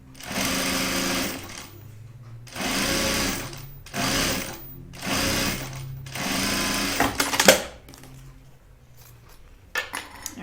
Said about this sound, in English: 1/4 inch seam, and we're gonna sew it down.